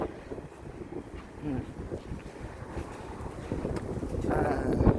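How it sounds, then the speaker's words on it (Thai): Outdoor wind in Hwaseong, South Korea, rushing across the microphone as a steady low roar that swells louder near the end, with faint voices underneath. "โอ้ลมแห้ง"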